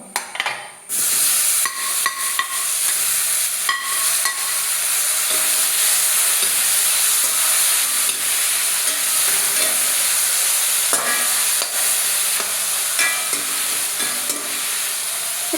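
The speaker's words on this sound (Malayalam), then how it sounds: "നമുക്കിതിലേക്ക് അരിഞ്ഞു വെച്ചിട്ടുള്ള തക്കാളി, ഒരു 3 തക്കാളി എടുത്തിട്ടുള്ളൂ" Three chopped tomatoes sizzle in a pan for Kerala-style tomato pulissery, stirred with repeated scraping strokes over a constant frying hiss, with no talking.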